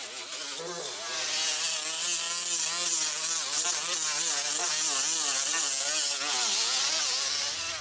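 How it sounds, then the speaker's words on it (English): A small air grinder with a 24 grit pad grinds down a weld on a car body during restoration, giving a loud, sustained high-pitched whine and rasp that winds up at the start and holds steady. "I'm gonna use a little air grinder, 24 grit pad on it"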